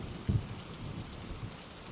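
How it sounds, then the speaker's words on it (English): Steady rain falls throughout, a soft continuous patter with a brief louder burst near the start, no voices present. "Rain Sounds"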